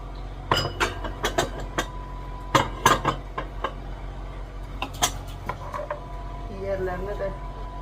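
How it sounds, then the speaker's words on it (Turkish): Ceramic dishes and cutlery clink and clatter in sharp, irregular knocks as items are set down and stacked, with quiet room noise between. "bulaşıkları yerleştireyim."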